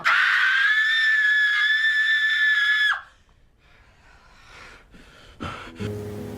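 A woman in a film scene screams at the top of her lungs, one loud, sustained shriek lasting about three seconds, then quieter rustling and breathing follow.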